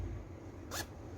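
A garment zipper is pulled up in one quick, sharp zip during zipper repair sewing work, close and brief against a quiet background.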